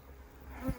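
Honey bees buzz around an open hive during a honey harvest, a low steady hum with one louder pass near the end as a bee flies close.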